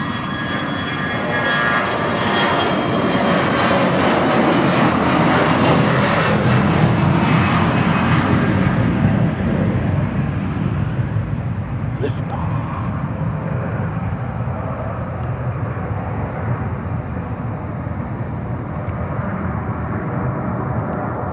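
An Endeavor Air CRJ-900 jet airliner at an airport, a loud, sustained engine roar and rush that holds steady and then slowly fades, with a brief click partway through.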